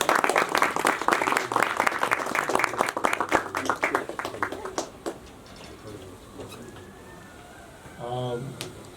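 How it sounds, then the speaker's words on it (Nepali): An audience at a song video launch ceremony in Nepal applauds steadily for about five seconds before the clapping thins out and fades, leaving room noise and a brief voice near the end. "फेरि चाहिँ ताली गरिदिनु होला"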